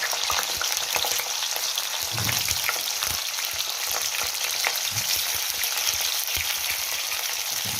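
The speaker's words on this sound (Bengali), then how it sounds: "আর তেলটা গরম হয়ে গেলে ফুলকপিগুলো ভাজতে বসিয়ে দেবো" Cauliflower pieces fry in hot white oil in a kadai, giving a continuous crackling sizzle with occasional stirring clatter, close and steady.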